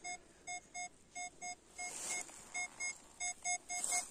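Metal detector sounding a series of short, thin electronic beeps in irregular bursts over buried silver in a Ukrainian forest, fairly close with faint background hiss.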